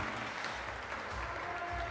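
A crowd at a bouldering competition in Loverval, Belgium, applauds and cheers, a dense continuous wash of clapping and shouting that fills the space, with voices mixed in.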